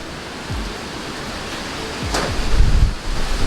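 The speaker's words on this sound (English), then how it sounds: "It's really ridiculously windy and I bet you guys can barely hear me" Strong wind buffets the microphone outdoors, roaring steadily with low gusty thumps and a louder surge near the end.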